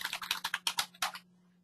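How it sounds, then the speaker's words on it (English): Brisk typing on a computer keyboard: a quick run of about a dozen close, crisp key clicks in an uneven rhythm, stopping after a second and leaving near silence. "You can type your email,"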